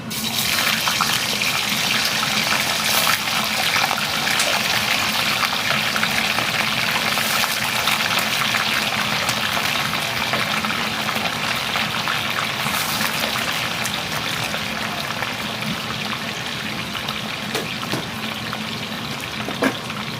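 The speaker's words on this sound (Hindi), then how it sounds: "अभी तेल गर्म हो गया, मैं चिकन अब फ्राई करना स्टार्ट करती हूँ." Chicken pieces frying in hot oil while Tingmo and chilli chicken are cooked at home give off a steady, loud, dense sizzle with a watery hiss that stays constant throughout, no talk.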